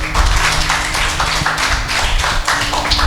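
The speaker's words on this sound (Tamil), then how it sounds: "கை தட்டுங்க பாப்போம்." A church congregation claps hands together in a dense, loud, continuous patter with a rough rhythmic pulse, heard up close without talk.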